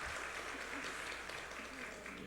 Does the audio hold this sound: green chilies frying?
no